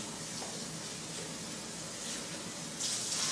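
Tap water runs steadily into a sink while something is rinsed out during juicing, a constant close hiss that swells louder near the end, with no talking.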